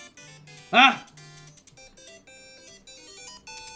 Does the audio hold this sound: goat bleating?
no